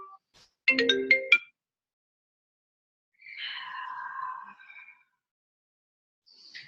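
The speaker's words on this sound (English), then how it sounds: "I think my phone was buzzing there." Mobile phone ringing during an indoor yoga session, a short electronic melodic ringtone burst followed by a quieter warbling tone, isolated against near silence.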